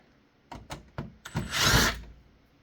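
Power screwdriver backing a long screw out of the fan inside a DIRECTV HR24-200 HD DVR receiver: a few short clicks and bursts, then a whirring run of about half a second, close and clear.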